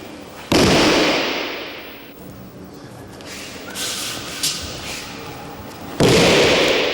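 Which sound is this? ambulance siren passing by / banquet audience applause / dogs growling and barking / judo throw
judo throw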